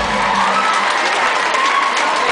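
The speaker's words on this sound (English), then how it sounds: "let's all give a round of applause for Mark Olga Cubbins, who couldn't be here" A concert crowd at the Koko Club in London cheers and applauds at a show, a loud, dense roar of clapping, whoops and shouts that holds steady throughout.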